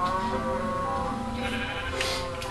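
Several sheep bleat in overlapping, wavering cries in a video game, over a steady background hum, loud and close, with no talking.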